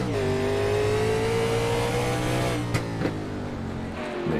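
A race car at Mid-Ohio revs to its redline, then the driver lifts off and blips through gear-matched downshifts under braking; loud, continuous engine drone with a couple of sharp throttle blips near the end.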